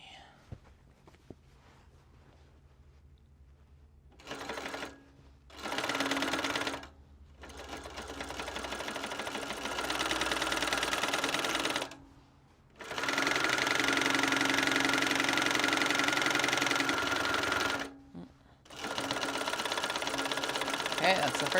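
A sewing machine with a flatbed attachment stitches across canvas edges, running in loud, steady bursts of whirring hum, with short pauses between runs and a longer continuous stretch; no speech is heard.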